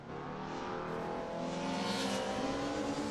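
A race car engine revs high and strains steadily, the pitch climbing slightly as it accelerates, loud and continuous with no talk.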